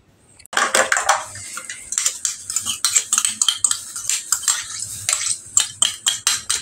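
A single egg whisked with a utensil in a bowl while preparing tempe fritters, a fast, steady run of close clinking and tapping strokes against the bowl that lasts several seconds with no talking.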